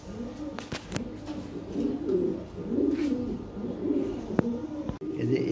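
Lahori pigeons at a sale coo in low, soft, rolling calls, close by and repeated, with a few sharp clicks and knocks in between.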